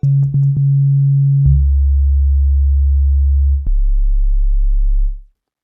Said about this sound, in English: Let's go ahead and test out these oscillators and see what they sound like.